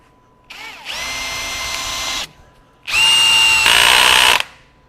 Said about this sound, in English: I'm gonna put that back into drive mode in low with the 25 and see when the clutch engages